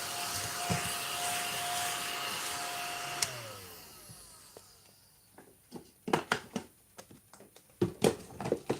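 A small handheld desk eraser vacuum cleaner runs with a steady whirring drone, then shuts off and is followed by scattered clicks and rubbing handling noises nearby.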